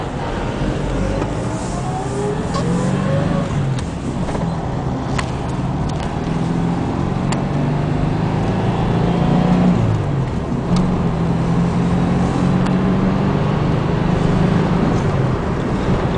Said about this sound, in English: That's why I like to take these videos, to let people see how the car runs.